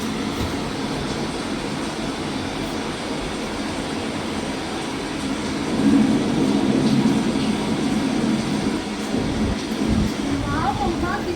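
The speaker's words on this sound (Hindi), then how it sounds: "बहुत अच्छी बारिश हो रही है।" Steady rain falls across an outdoor setting during the rainy season, a broad continuous hiss that thickens midway, with children's voices and an adult talking over it.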